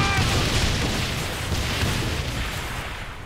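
An explosion in Saints Row: The Third fires off as a deep boom and then fades into a rumbling roar with a few smaller bursts inside it, loud at first and dying away slowly.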